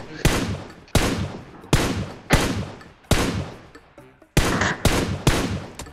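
Gunfire in the video game PUBG Mobile: about eight loud, sharp shots spaced irregularly across the stretch, each ringing out and trailing off, with a brief quieter gap partway through.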